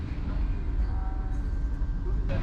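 A Vande Bharat train rolls into a railway junction, its low rumble and wheel noise steady throughout, with a faint tonal whine and a short rattle near the end.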